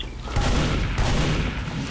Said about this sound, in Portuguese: Tem tiro de crítico.